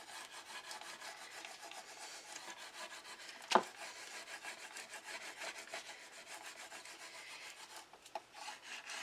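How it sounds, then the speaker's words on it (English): Vinyl letters are burnished onto transfer tape with steady, faint scraping and rubbing strokes, broken once by a sharp tap, with no talking. "I am just going to burnish these letters so that they can come off onto the transfer tape."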